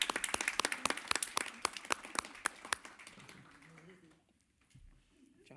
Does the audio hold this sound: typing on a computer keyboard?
no